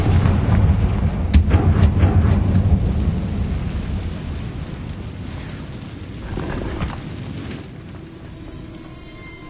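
The Confringo fire spell in Hogwarts Legacy lets off a deep rumbling blast that rolls on in a long, booming, thunder-like roar, loud and close, then fades with some crackling.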